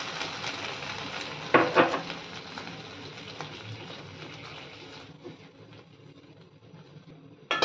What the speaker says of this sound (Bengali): এই লঙ্কা এবং আদা কুক হতে দেব।